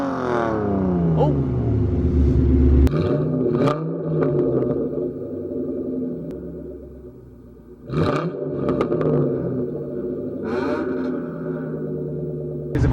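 A 600+ horsepower Shelby Cobra engine rumbles loudly at close range, holding revs on a 2-step limiter with sharp popping bursts and a deep falling pitch sweep at the start, voices talking over it.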